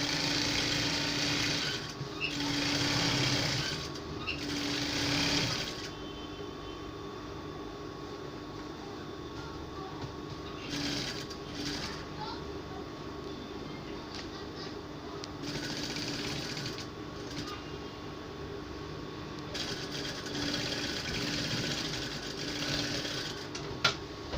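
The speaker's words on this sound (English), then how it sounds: "Follow your short line and sew on the right side." Sewing machine stitching fabric for a bubu jumpsuit, running in several steady whirring bursts separated by short pauses, close and clear with no talk.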